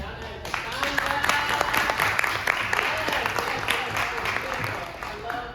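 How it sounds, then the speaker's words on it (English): A workshop audience claps for its hosts in a moderate, steady round of applause, somewhat distant and soft, with a voice or two mixed in. "Please give a round of applause for your wonderful hosts, Ariana and Cassandra."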